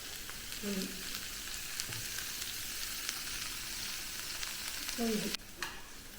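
Grated coconut with tamarind and salt sautéed in a pan, a steady faint sizzle with occasional stirring scrapes, two short louder bursts near the start and end, no talking.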